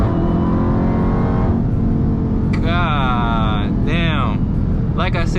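A 2021 Dodge Charger Redeye Widebody on launch control, its engine held at a loud steady rumble with rising rev sweeps near the end, under people talking.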